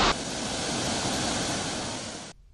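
Guryong Falls in the Kumgang Mountains roars with a loud, steady rush of falling water, a dense unbroken wash of sound that cuts off abruptly near the end.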